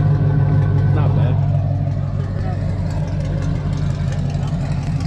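A Chevrolet Silverado Z71 pickup with a custom stainless steel exhaust and Borla Atak muffler idles loudly after a cold start, with a steady deep rumble, and a voice speaks briefly over it.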